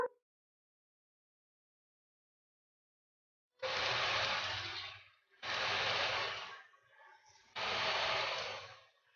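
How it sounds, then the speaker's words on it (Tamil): Rava bites fry in hot oil in a kadai, three loud bursts of dense sizzling hiss separated by short quieter gaps after a silent start, no voices. "இப்போ இது எல்லாத்தையும் நம்ம போட்டு ஃப்ரை பண்ணி எடுத்துக்கலாம்."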